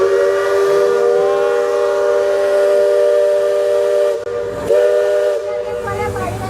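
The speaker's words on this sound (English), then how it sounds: "Walt Disney World Railroad off in the distance behind Tiana's Bayou Adventure with the whistle." A steam train whistle from the Walt Disney World Railroad at Magic Kingdom, behind Tiana's Bayou Adventure, blows a long sustained chord that is distant but clear, then breaks off and returns briefly over steady park ambience.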